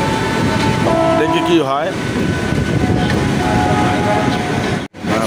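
A train pulling out of Howrah station on the Bardhaman line gives a steady, loud rolling rumble with a rising hum and brief squeal, heard from on board, with a short spoken phrase over it.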